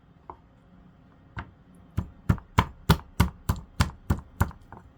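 Garlic cloves being chopped with a knife on a cutting board, a few scattered cuts followed by a steady run of about ten crisp, evenly spaced chops, close and clear with no talking.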